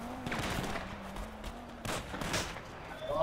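Gunfire in GTA Online during a heist mission, several sharp shots at intervals over a steady game background, with a tonal drone running beneath.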